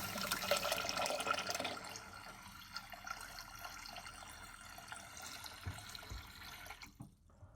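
Water runs steadily from a newly installed RV kitchen faucet with a soft, even hiss before shutting off near the end.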